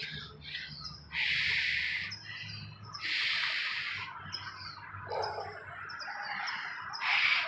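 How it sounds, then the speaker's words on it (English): Birds squawk and chirp in repeated loud bursts at close range during an early morning walk outdoors, with quieter calls between them and a low background rumble throughout. "Birdies!"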